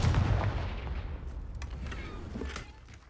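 Confringo fire spell in the Hogwarts Legacy video game opens with a loud booming blast, then a rumbling, crackling decay with a few sharp pops fading over three seconds.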